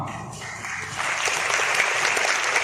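Audience at a company diamond celebration event breaks into dense, steady applause that swells after a quieter opening and carries on at a full, even level.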